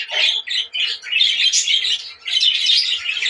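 Lovebird chick chirping in a run of high, rapid tweets and squawks, near and continuous with short gaps, alone without talk.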